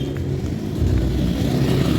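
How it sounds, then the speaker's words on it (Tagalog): Motorcycles crowd a road near a traffic light and checkpoint, a dense, steady engine drone close by with a slight rise after the first second, no talking. "Marami na ng motor."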